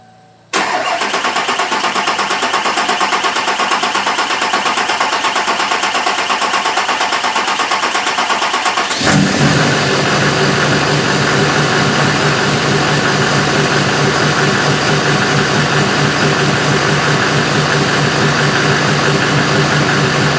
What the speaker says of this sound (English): let's go ahead and crank on this thing a little bit, see if we can get the fire up